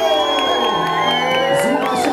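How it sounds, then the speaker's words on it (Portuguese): Crowd at the closing ceremony of a cup championship cheers and whoops loudly, with shouting voices and a continuous roar; any clapping is buried under the cheering. "Uma salva de palmas para Tuca Rocha e Thiago Bramilo!"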